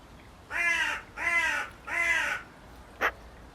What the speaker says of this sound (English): He's just a chunky crow, isn't he?